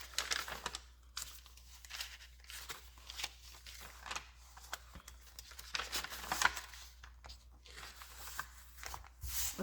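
Crinkled wrapping paper is handled close up, giving dry crackling rustles and crumpling bursts that come and go, with no talking.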